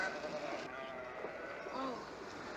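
Sheep bleating near a railway boxcar in a Wild West film scene, a few bleats under a steady background wash, mid-distance and moderately loud.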